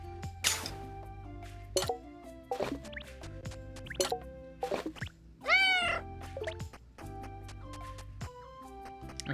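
A cat in the game Forager lets out one short, clear meow amid soft chiming game effects and a looping music bed.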